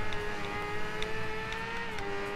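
Race cars in a racing video game, a steady droning engine whine holding a high pitch with slight shifts, fairly close and continuous with no talking.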